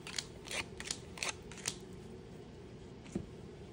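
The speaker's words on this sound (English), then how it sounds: "And we're gonna lay out five more cards." Playing cards are laid out one by one on a table, making a handful of light, close slaps and flicks in a loose rhythm, then a pause and one last soft tap.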